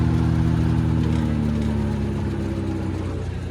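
A tractor-driven chaff cutter (bhusa machine) runs at about 1400 rpm, its diesel engine and cutter making a loud, steady droning hum that stays even throughout, with no voices.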